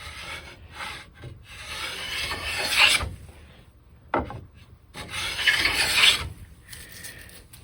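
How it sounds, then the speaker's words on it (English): A Veritas chisel plane takes thin shavings from pine wood in two long, rasping strokes separated by a brief pause, close and clear with no talking. "here I'm getting just a nice whisper of a shaving that is cleaning that up pretty well"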